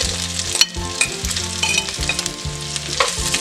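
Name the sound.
bacon and sausages frying in a pan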